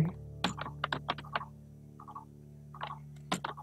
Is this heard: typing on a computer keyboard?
yes